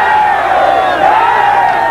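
Cruzeiro fans celebrating the 1997 Libertadores title, a loud, dense crowd roar with singing voices blending into a steady wall of sound that swells slightly midway.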